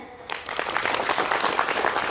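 A group bursts into brisk clapping that starts suddenly and continues evenly for a couple of seconds.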